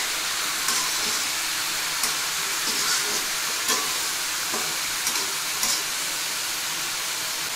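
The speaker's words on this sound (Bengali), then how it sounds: "এবার সব নেড়ে চেড়ে কষিয়ে নেব।" Mixed vegetables with cumin powder and spices fry in a kadai, giving a steady, close sizzle. Scraping stirs break through about every second or so, with no talk.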